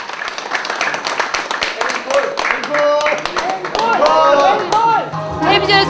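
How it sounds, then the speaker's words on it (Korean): A crowd of children and teachers in a dining hall claps together in a steady, dense rhythm, loud and close, with voices and singing rising over the applause. "박수를 치며 모두 하나가 되어갔다"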